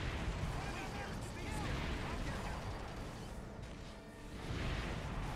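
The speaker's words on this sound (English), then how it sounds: "I can destroy it with the howitzer." Howitzer fire in the Earth Defense Force 6 video game: a dense, continuous wash of rumbling blasts and debris noise at moderate level, with no distinct individual shots and a slight swell near the end.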